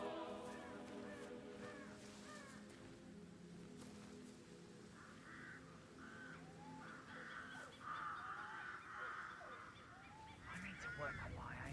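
Crows cawing and geese-like honks in the Hitman World of Assassination game, repeated harsh bird calls over a steady ambient bed, fairly faint overall and rising toward the end.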